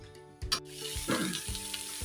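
A mustard and garlic tempering in oil poured over a cooked dish, giving a close, brief crackling sizzle with a few sharp pops and clinks, then a soft lingering fry.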